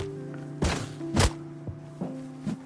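Rock melee strikes in Rust Console Edition, a few dull, heavy thuds at irregular intervals over a steady low game hum, with no talk.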